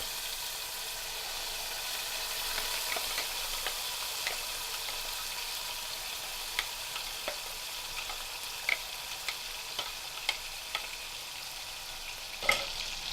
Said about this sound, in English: Stir them around a bit. Let them sizzle.